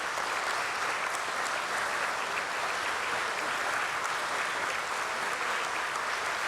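A large audience claps steadily throughout at a stock-exchange relaunch ceremony, the applause a dense, even roar of many hands with no voices heard above it.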